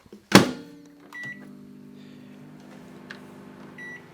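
A microwave door clunks shut, then the microwave oven hums steadily up close, melting chocolate for ganache, with a few faint beeps.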